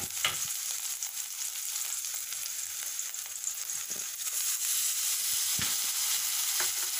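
Vegetables sauté in a hot pan for broccoli butter masala, a loud, steady sizzle that fills the whole stretch, broken by a few short stirring scrapes, with no voices.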